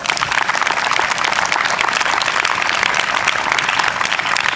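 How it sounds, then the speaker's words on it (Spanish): A crowd applauds at the opening ceremony of a baseball league's fourth tournament, a continuous, even wash of clapping from many hands lasting several seconds with no talk over it. "Un aplauso para Papá Dios."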